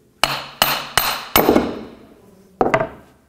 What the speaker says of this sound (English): Sometimes you'll need a hammer to persuade it.